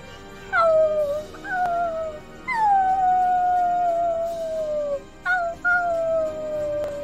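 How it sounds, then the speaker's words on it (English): A wolf howls in the distance in the middle of the night: three or four long, clear howls that rise and then slowly fall, each fading before the next one begins. No one talks. "They could hear the wolf howling in the distance."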